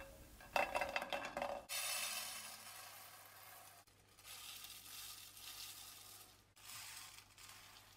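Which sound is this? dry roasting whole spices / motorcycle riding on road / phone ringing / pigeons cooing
dry roasting whole spices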